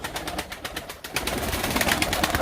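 Tumbler pigeons coo and flutter close by at a pigeon auction, with soft repeated rustling and cooing sounds over a few seconds.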